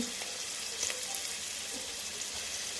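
Ginger garlic paste fries in hot oil for a curry, giving a constant close hiss and soft crackle with no voices.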